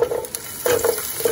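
Potato pieces fry in hot oil in a pan, bursts of sizzling crackle rising and falling as they are stirred, close and fairly loud with no talk.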